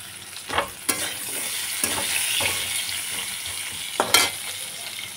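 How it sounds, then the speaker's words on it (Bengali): Two onions cut into large pieces frying in oil in a pan for a bata fish curry, a soft steady sizzle with several close scraping stirs and clatters. "এখন দিয়ে দিচ্ছি 2টো পেঁয়াজ, আমি বড় বড় করে টুকরো করে"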